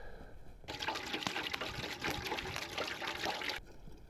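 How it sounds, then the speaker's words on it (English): Vinegar poured into a container to make brine for pickled pike outdoors in Alaska, a steady splashing liquid stream that starts abruptly, runs close and fairly loud for about three seconds, then stops. "I'll put the vinegar in that."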